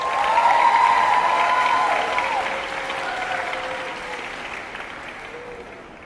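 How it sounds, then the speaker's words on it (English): Audience applause at a school all-city festival concert, a broad crowd clapping that starts full and gradually fades, with a few sustained tones lingering underneath. "ask you to give them one more round of applause"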